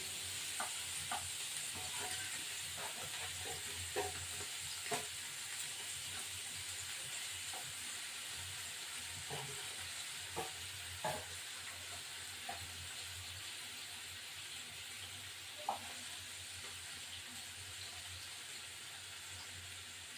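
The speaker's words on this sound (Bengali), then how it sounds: "কড়া করে একটু ভাজবো সবগুলোই দিয়ে দিলাম ট্যাংরা মাছ" Tangra fish fry in a pan, giving a faint steady sizzle broken by occasional clicks and utensil knocks over about twenty seconds, with no speech.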